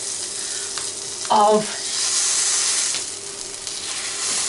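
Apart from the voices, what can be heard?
sausage meat patty sizzling while frying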